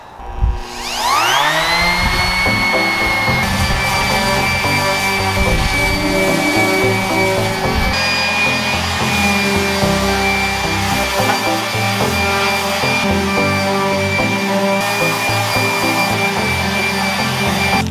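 A power tool whirs steadily as it sands a piece of wood furniture with cane panels smooth ahead of painting, a loud continuous drone that spins up in the first second and holds without talk.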